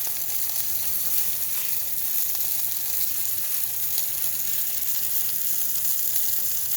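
Potatoes sizzling steadily as they fry in a pan, a continuous close hiss with fine crackle throughout and no voices, served alongside steak.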